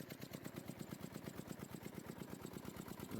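Tractor engine idling on a farm while loaded with a harvested crop: a quiet, even, rapid chugging pulse that holds steady throughout, fairly faint, with no talking.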